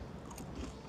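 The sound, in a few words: biting into crunchy fried bangus milkfish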